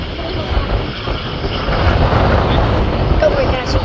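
An Airbus A320 airliner takes off at Manchester Airport on a very windy day, its broad engine roar steady and loud throughout, blended with heavy wind rumble buffeting the microphone.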